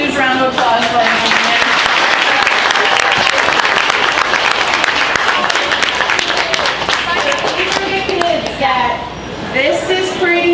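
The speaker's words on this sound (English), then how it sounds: "Can we have a huge round of applause for them?" An audience at a youth rabbit show applauds loudly and steadily, with dense clapping held for several seconds. Voices murmur and call out underneath, and the clapping thins slightly near the end.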